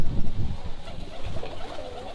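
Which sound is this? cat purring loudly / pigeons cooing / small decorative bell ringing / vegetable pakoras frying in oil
pigeons cooing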